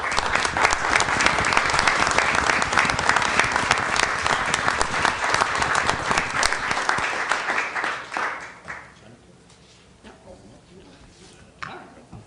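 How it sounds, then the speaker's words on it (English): Audience at a school board meeting breaks into loud, sustained applause that fills the room for about eight seconds, then fades into scattered claps and quiet murmuring. "I'd also like to ask the audience to join me in a well-deserved round of applause for these individuals."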